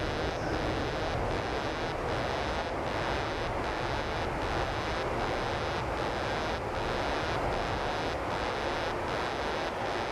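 An aircraft brakes on the runway after landing at Toulouse Blagnac: a loud, steady broadband roar that runs the whole time with faint, regular ticking through it and no voices.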